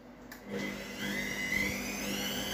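The drain pump of a Tornado TWFL7 washing machine runs in test mode, a steady mechanical hum with a rising whine that starts after a short click and continues at close range.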